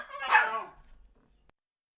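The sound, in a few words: dogs barking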